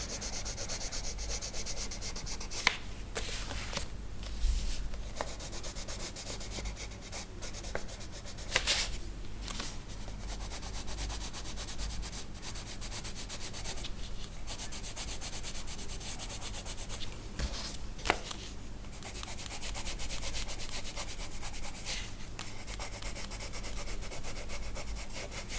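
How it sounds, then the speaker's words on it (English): Colored pencil rubbing and blending on a colouring-book page, a steady close scratchy friction that runs continuously with brief strokes and pauses, no voices over it. "And then blending it out with the lighter pencil."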